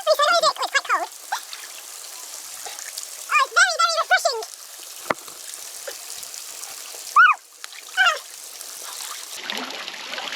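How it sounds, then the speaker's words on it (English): A small waterfall on rural land in Portugal gives a steady hiss of running water throughout, broken by short bursts of voices or chirping calls. "Look at that little waterfall behind you."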